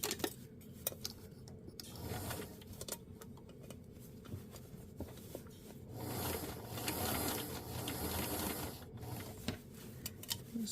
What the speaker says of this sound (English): And then I'll fix all this with the serger.